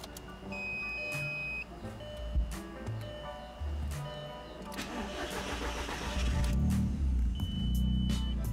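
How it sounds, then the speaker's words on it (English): Car engine being started for tuning, cranking then catching and settling into a steady idle, fairly close, with small clicks and no talk. "Now that the car is up and running"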